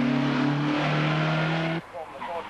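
A Chrysler Avenger rally car on a stage of the Avon Motor Tour roars past loudly with a strong engine drone that cuts off abruptly, leaving quieter background sound.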